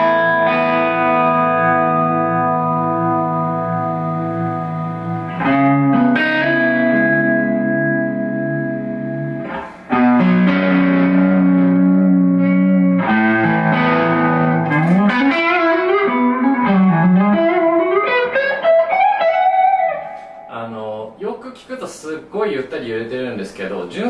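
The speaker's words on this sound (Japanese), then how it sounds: "じゃあ次はコーラスからビブラートに行ってみます。" Electric guitar through a Strymon UltraViolet pedal in vibrato mode, sustained chords and single notes with a wavering pitch warble, loud and close, a bending lead line rising through the middle before ending on choppier plucked notes.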